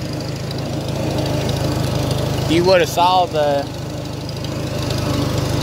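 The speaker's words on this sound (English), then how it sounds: "Now this is an 8-foot Woods bush hog, Woods 208. And this tractor, it's kindly heavy for it." A Farmall 350 tractor runs steadily, pulling an 8-foot Woods 208 bush hog cutter, its low engine drone continuous throughout; someone speaks briefly over it midway.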